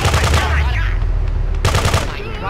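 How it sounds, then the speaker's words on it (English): Loud, continuous rattling machine gun fire from the Grand Theft Auto 2 game, a dense rapid stream of shots over a low rumbling bed, with a spoken voice over it. "Machine gun!"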